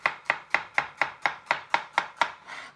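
A knife slicing through a cucumber on a cutting board for a salad, ten crisp, evenly spaced chops in a quick steady rhythm, close and clear with no talking.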